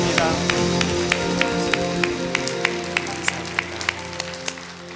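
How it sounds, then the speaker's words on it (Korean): A church congregation claps in a steady, even rhythm, each clap crisp and regularly spaced, while sustained background music fades out beneath. "오늘도 역사하시는 하나님께 영광의 박수"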